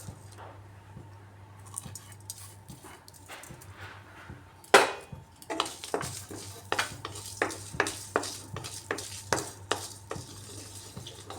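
Spices dry-roasting in a kadai, quiet at first, then a sharp clatter followed by a run of rhythmic scraping and tapping strokes of a spoon against the metal wok over a low steady hum.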